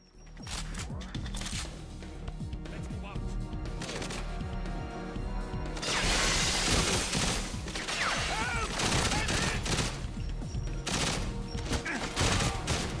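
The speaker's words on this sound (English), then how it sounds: "Did he shoot me through the damn wall?" Gunfire in 007 GoldenEye Reloaded, dense crackling shots and mechanical clatter running steadily for several seconds, with a louder, harsher stretch midway, some of it likely coming through a wall.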